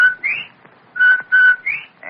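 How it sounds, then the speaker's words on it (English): A bobwhite's cheery whistle rings out in repeated clear two-note phrases with rising slides, loud and close, heard alone without talk. "Everybody loves the cheery whistle of a Bob White."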